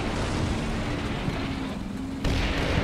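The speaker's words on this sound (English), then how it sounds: "And here comes the artillery." Artillery in the Combat Mission Rome to Victory game rumbles as a continuous heavy roar of distant explosions, with a louder boom swelling near the end, no talking.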